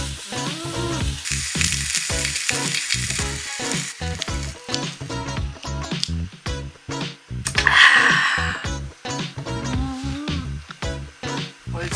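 Meat sizzling and frying loudly in a pan at a solo winter campsite, with a steady crackling hiss broken by frequent clinks and scrapes of utensils, close and continuous.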